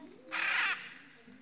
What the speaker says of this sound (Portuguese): A arara.